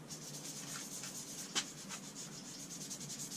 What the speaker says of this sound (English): can put some on the finger, start rubbing it in.